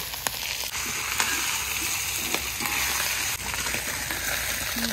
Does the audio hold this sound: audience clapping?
no